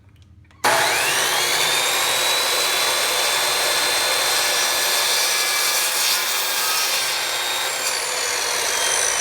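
A power saw cuts a part for a toy crossbow to length, starting abruptly and droning steadily and loudly from close range for several seconds.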